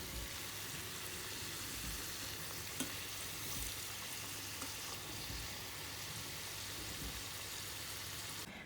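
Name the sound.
clarinhas de Fão pastries frying in oil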